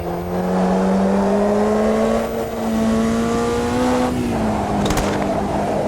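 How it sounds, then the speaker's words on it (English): A Formula Junior race car engine in the racing game Automobilista 2 roars steadily at high revs, then drops off as a quick burst of sharp backfire pops crackles near the end. "Oh, the noise of the backfires"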